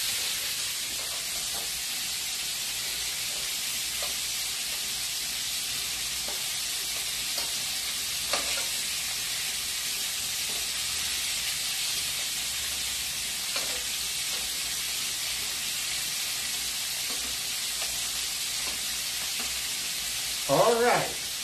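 Shrimp sizzle in a pan with a constant, loud, hissing fry and scattered soft stirring clinks, close up with no talk; a brief louder clatter comes near the end.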